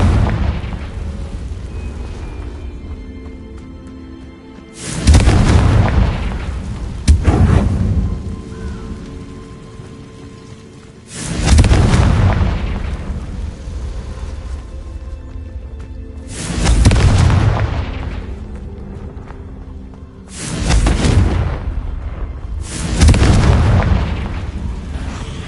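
Confringo blasting spells exploding in Hogwarts Legacy, five or six loud booming blasts spaced a few seconds apart, each with a rumbling tail that fades before the next.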